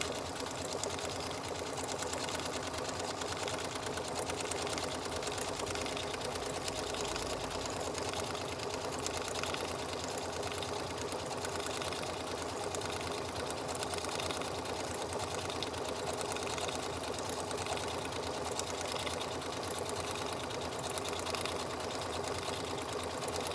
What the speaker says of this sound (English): put your needle up, go back where you were,